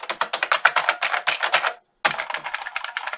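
Keys on an IBM iSeries AS/400 terminal keyboard are pressed in a fast run of clacky strokes, close and loud, broken by a short pause before another burst of typing.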